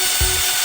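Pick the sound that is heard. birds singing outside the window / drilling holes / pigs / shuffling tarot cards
drilling holes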